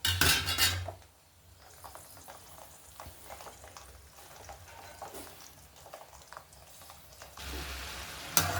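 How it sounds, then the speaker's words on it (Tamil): Garlic sautés in a pan for a homemade pickle, with a low, steady sizzle and occasional scrapes and clinks of a utensil against the pan, louder at the start and end. "பூண்டு நல்லா வதங்கட்டும்."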